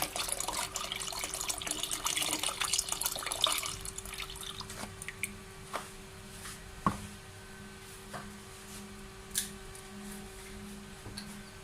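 One and a half to two litres of full cream milk poured into a pot for gajrela: a steady, close liquid pour for about four seconds, then scattered soft drips and taps in a quiet kitchen.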